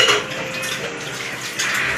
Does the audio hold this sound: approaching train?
no